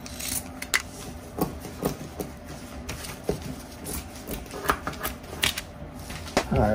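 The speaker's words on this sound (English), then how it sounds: "I'm going to cut it big and then trim it." Scissors snipping felt for the back of cast iron Art Deco bookends: a run of crisp, close clicks and snips at an uneven pace over a light rustling background.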